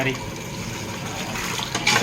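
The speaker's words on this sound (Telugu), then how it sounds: "కర్రీలో వాటర్ పోస్తుంది." Water pours into a large pot of Telangana-style chicken curry being cooked for about 100 people at a small function. The rush is steady and loud, with a voice faintly present beneath it.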